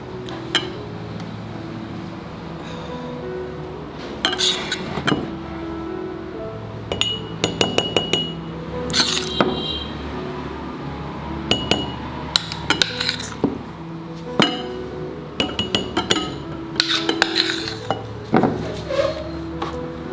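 Glass bottles clink and chink repeatedly in irregular bursts while homemade recheado masala is bottled in a kitchen, with sharp, close knocks of glass on glass and hard surfaces.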